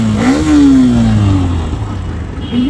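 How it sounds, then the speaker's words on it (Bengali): A Hero Xtreme 125 motorcycle, a 125 cc bike, revs up loud and close, its engine note climbing sharply and then easing down in a sustained, throaty rise and fall with a brief second blip at the end. "এইটা হিরোর আপকামিং এক্সট্রিম 125 বাইক"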